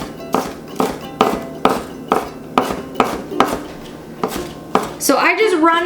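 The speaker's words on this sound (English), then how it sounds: "So I just run my knife across the slices" A knife chops thin vegetable slices on a cutting board for a black bean and corn salad, with about nine evenly spaced, close, crisp knocks, followed by a brief burst of scraping at the end.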